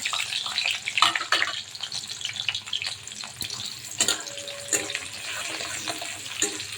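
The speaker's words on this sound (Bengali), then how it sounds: "এখন আমি পেঁয়াজ কুচি আর রসুন কুচিটা তেলে দিয়ে দেবো।" Chopped onion and garlic fry in oil in a pan, a soft, continuous sizzling hiss with small pops and crackles, fairly close and moderately loud, with no talk.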